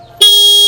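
A scooter horn blares suddenly after a brief quiet lead-in, one loud steady honk that holds to the end.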